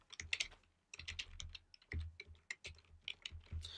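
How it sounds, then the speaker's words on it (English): Quick bursts of typing on a computer keyboard while entering form information, close and clear, with brief pauses between runs of keystrokes and no talk. "I'm just going to type in some information here."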